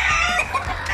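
A hen clucks steadily among a flock of roosters, hens and chicks while she lays eggs, the close, busy clucking running without pause through the second.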